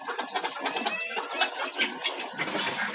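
A rooster clucks repeatedly outdoors, a busy, moderately faint run of short clucks and calls with other birds mixed in.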